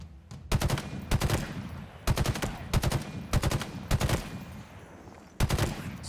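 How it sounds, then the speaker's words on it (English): Gunfire in the video game Halo Infinite: several loud, punchy automatic bursts about a second apart, each a tight rapid string of heavy shots, close and dominant. "Dude, the gun sounds in this game."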